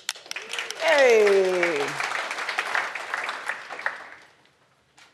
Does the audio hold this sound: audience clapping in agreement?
yes